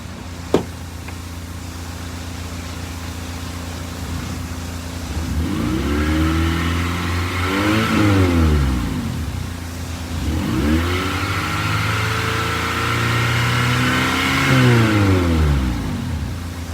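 A car engine revs up twice in close succession, each time climbing to a strong roar and dropping back to a low idle between bursts, heard up close with no voices.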